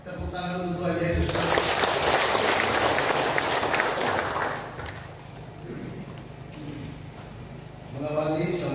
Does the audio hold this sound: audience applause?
yes